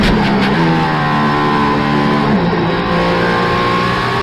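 The Mercedes-AMG ONE's engine howls loudly on a Nürburgring lap, a sustained high-revving note with a clear upshift partway through, then the pitch climbs again.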